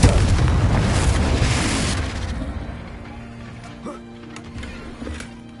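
A Confringo fire-spell blast in Hogwarts Legacy: a loud, booming explosion that hits at once and rumbles for about two seconds, then decays into a quieter tail with faint crackles.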